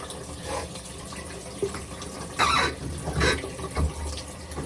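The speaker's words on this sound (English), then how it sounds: "let's go ahead and give a little rinse off the arms too" Tap water runs steadily into a sink while arms are rinsed during a shower-soap wash, with a few louder splashing surges over the continuous flow.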